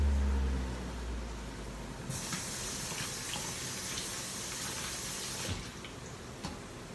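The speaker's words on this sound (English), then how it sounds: "I'm just gonna wash my hand." Running tap water splashes steadily while a hand is washed under it, a broad continuous hiss starting partway in and cutting off near the end, fairly close with no talking.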